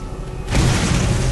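Borderlands video game combat: after a quiet moment a sudden loud boom of gunfire and explosion bursts in and holds as a dense, rumbling blast for the rest of the brief moment.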